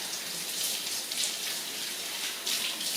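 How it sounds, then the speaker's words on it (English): Running tap water pours over tomatoes being washed in a home kitchen, a steady close splashing hiss with small bursts of rinsing, no voices. "I have already washed those tomatoes one time. And I'll wash them again."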